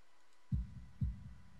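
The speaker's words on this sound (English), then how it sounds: "holding my breath in an attempt to hear my heartbeat" Two deep, thumping heartbeats from a visual novel sound effect, spaced about half a second apart, each a low muffled thud with a short decay, heard alone over quiet background.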